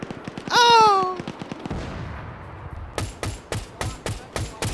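A magazine dump from a gun in Arma during a Korean War Zeus mission. Loud rapid shots crack in quick succession, a brief tonal whine follows, then a second burst of evenly spaced sharp shots comes after a short pause.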